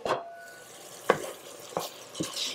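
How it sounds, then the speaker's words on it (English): Creamy low-fat gluten-free potato soup is stirred in a pot, with four distinct scraping strokes of a spoon against the pot spaced about half a second apart, close and fairly quiet over a low simmer. "we're going to give it a quick stir"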